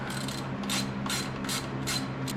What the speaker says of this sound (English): You just pop these 2 bolts off, it comes off